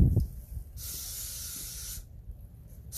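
Aerosol can of snow flocking sprayed onto outdoor porch Christmas decorations, a close, steady hiss in two bursts with a brief pause between, then a short restart at the end.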